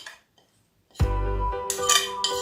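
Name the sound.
stirring noodles with carrots, spring onion and celery in bowl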